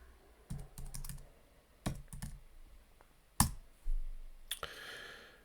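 Keys clack on a computer keyboard while an IP address for a management node is entered: scattered bursts of quick presses with short pauses between them, close and fairly quiet, with no talking.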